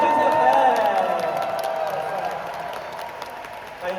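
Audience applause and some cheering at an award ceremony for a song contest, a broad steady wash of clapping that slowly fades, with a voice heard over it early on.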